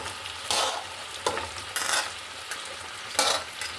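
Radish being stir-fried with fish in a pan, loud bursts of sizzling and scraping stirs about every half-second to second, close and with no voices.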